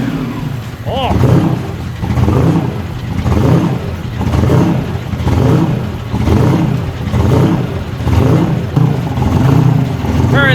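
A truck engine in cold weather cranks and fires, then revs in repeated rising and falling surges, loud and close throughout, with a brief voice near the start.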